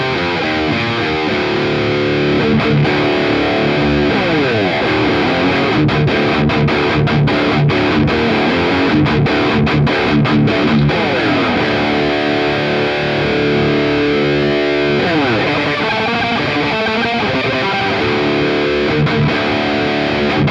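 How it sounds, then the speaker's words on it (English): Electric guitar driven through a super overdrive pedal into a high-gain amp, playing loud, dense distorted riffs with sustained chords and quick chugging passages throughout, no talking. "And then if we kick in the super overdrive"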